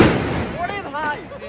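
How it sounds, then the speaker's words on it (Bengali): Diwali fireworks crackle and pop in a crowded outdoor scene in Varanasi, with people talking and shouting loudly throughout. "এখানে অনেক আতশবাজি।"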